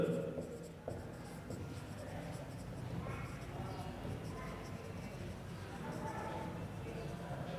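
Pen writing on paper while working through accounting entries, a soft continuous scratching with small strokes and pauses, close and quiet.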